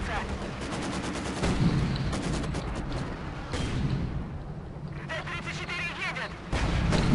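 Howitzer artillery booms and bursts of gunfire crackle in a busy battle soundscape from the video game Company of Heroes 2, with some voices talking underneath.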